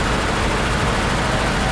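A 1937 Ford engine idling after being started, with a steady low rumbling hum that holds constant and nearby, alone without speech.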